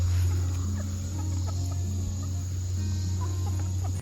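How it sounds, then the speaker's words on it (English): Chickens clucking near a fence as they hurry up to greet someone on a homestead; soft, scattered clucks sit over a steady low hum and faint insect-like background noise, with no talk. "Starting with our chickens, they're all running up to the fence to greet me"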